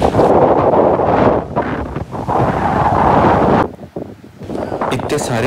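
Strong wind buffets the microphone over rolling surf at a jellyfish-filled beach in Denmark, a loud, steady roar of gusts and waves that dips briefly before surging back.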